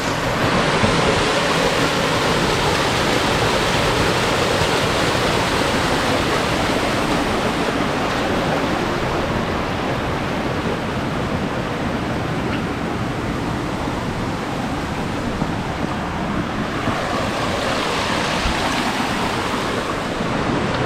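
Stream water rushing through a canyon at average flow, a loud, continuous broadband roar of water that stays steady throughout, with no voices over it.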